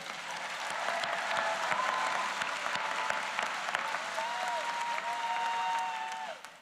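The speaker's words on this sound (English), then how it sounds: "big round of applause to all of you." Sustained applause from a large convocation crowd honoring graduates of a school of social work, steady dense clapping that fills the space and tapers off at the end.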